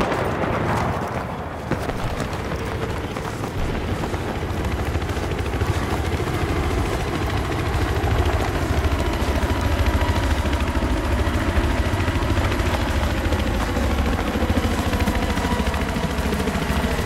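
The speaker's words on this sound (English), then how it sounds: "Hostile helicopter in your AO." An enemy helicopter in Battlefield 3 on the Gulf of Oman map gives a sustained, loud, rhythmic rotor thump and engine drone throughout, with scattered gunfire cracks and battle noise mixed in.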